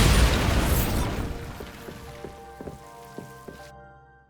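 A Bombarda blasting spell explodes in Hogwarts Legacy: a loud burst that decays over a second, followed by scattered debris clatters and small pops trailing off.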